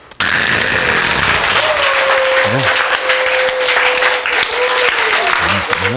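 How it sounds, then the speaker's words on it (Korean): A large audience at a lecture applauds loudly and steadily for several seconds, a dense wash of clapping that starts abruptly and carries on, with a voice heard faintly through it. "박수!"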